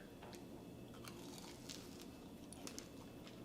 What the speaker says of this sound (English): I'm gonna take a bite just like that because I like my churros with cinnamon and sugar